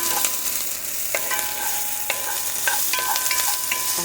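Diced onions frying in a pan for stir-fried rice, a steady bright sizzle with scraping strokes of a utensil stirring at irregular moments, close and fairly loud, no voices.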